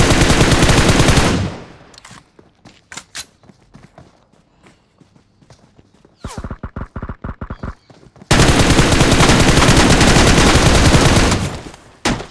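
A PP-19 Bizon submachine gun fires in PUBG Mobile, loud sustained automatic bursts at the start, middle and end, separated by quieter stretches of scattered single shots and footsteps.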